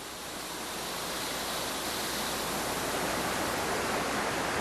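Steady, dense rush of a Nebraska waterfall, a broad hissing roar that stays constant throughout with no voices.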